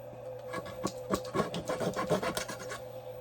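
Rhythmic rasping strokes of sandpaper on wood, a quick series of back-and-forth scrapes, close and fairly quiet, with no voices.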